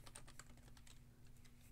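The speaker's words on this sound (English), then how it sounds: "I'm just going to type it in" Quick, light keystrokes on a computer keyboard, a brief run of close clicks with a faint steady hum beneath.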